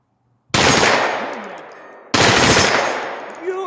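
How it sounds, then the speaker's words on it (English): A pistol bump-fired from a makeshift condom brace lets out two loud, rapid strings of shots in quick succession outdoors, each burst a dense rattle that fades into a ringing tail. "let's see if I can get some hits bump firing this."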